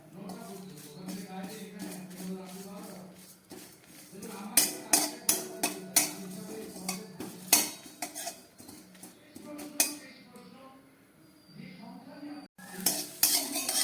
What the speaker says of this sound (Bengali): 2টো শুকনো লঙ্কা আর 1/2 চামচ মতো গোটা জিরে দিয়ে দিলাম।